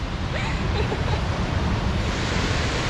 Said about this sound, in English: We made it to Mystic Falls, height 70 feet of a water drop.